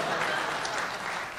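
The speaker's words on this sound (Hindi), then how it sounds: "और एक बार ताली." Audience applause at a motivational talk, a dense, steady wash of many hands clapping that fills the short moment at even loudness with no pauses.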